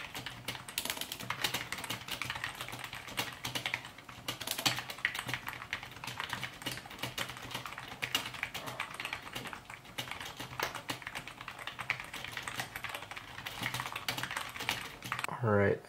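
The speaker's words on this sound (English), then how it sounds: "The keys actually sound really nice. I don't know if you can hear that on the audio, but let's do a typing test." Rapid, steady typing on a refreshed 18-year-old Apple keyboard, with crisp close-up key clicks tapping continuously at a brisk pace throughout, and no talk over it.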